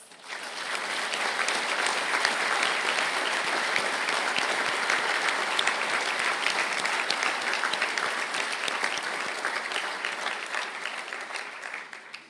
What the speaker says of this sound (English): I ask the graduates of the Bachelor of Science in Public Health Nutrition to please stand for a round of applause.